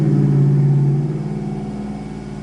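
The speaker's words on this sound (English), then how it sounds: "It's a very loud truck." A loud truck passing close by, its heavy engine a strong low rumble that swells at the start and then slowly fades as it moves away, heard alone without talk.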